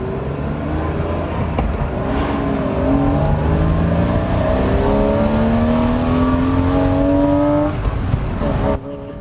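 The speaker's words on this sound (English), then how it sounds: "I've got to show you these revs, it's brilliant." A BMW E36 engine revs loudly and steadily, its pitch climbing in repeated sweeping pulls before cutting off abruptly near the end.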